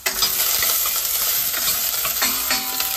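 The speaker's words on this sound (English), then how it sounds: "This is sizzling up. It's sizzling nicely." Onions sizzle steadily in a hot frying pan, a close, continuous crackling hiss with occasional stirring scrapes and no voices over it.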